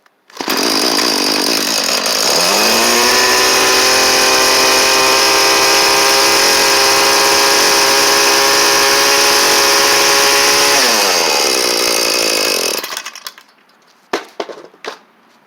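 A Poulan two-stroke chainsaw, newly fitted with a fresh carburetor and fuel lines, roars loud and close for about ten seconds, its pitch climbing as it revs, then cuts out, leaving a few short knocks and rattles.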